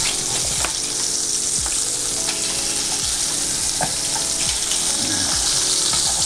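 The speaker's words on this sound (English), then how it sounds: "I'm just going to take it and flip it and finish sauteing in the pan." Halibut fillet sautéing in a hot pan gives a steady, loud sizzle throughout, with occasional clinks and scrapes as it is flipped; no voices.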